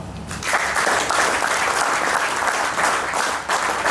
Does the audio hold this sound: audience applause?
yes